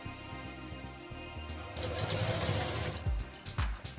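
A domestic sewing machine stitching a triangle-shaped design onto a salwar hem, running as a steady close mechanical whir with a rapid needle rhythm that grows louder and busier in the second half, with no talking.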